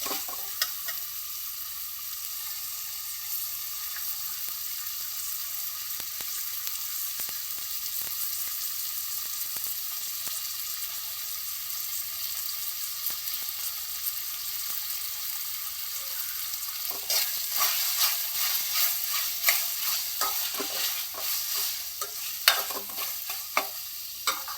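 Tomatoes frying in a pan in a dhaba-style tomato sev bhaji, a steady sizzle running throughout with spoon stirring and scraping that grows louder and busier toward the end.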